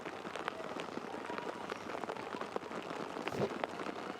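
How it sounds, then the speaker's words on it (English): Heavy, torrential rain pouring down during a women's rugby match, a steady dense hiss throughout with scattered crowd noise. "That rain is just absolutely torrential at this point."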